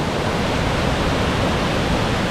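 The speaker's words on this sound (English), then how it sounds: "Incredible little waterfall" A small waterfall at Cathedral Falls pours in a steady, even rush of water, constant and fairly close, with no voices over it.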